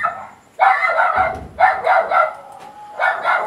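Several dogs bark in loud, repeated bursts at night, each volley lasting about half a second with short pauses between, close and clear, with no voices.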